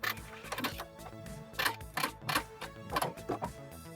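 A home sewing machine runs a few short back stitches on fabric, giving quiet rapid mechanical clatter in brief repeated bursts, close by, with no talking.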